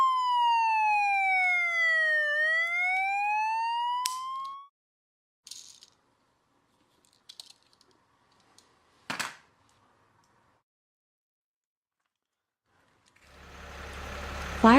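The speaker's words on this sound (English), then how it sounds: "Police car." A police car siren wails in a loud, close sweep, falling then rising in pitch for about four seconds before stopping abruptly; scattered faint knocks and a brief thump follow, and a low engine rumble builds at the end.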